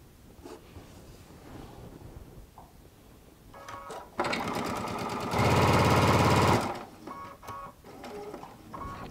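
A sewing machine stitches quilt squares onto a 2.5 inch strip, running in short bursts before one loud sustained run of a couple of seconds, then quieter handling noises afterward.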